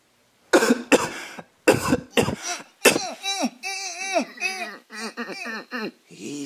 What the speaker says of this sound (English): He just coughed